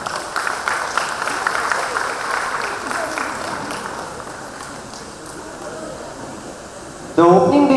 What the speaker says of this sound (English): Can you please have a round of applause for them?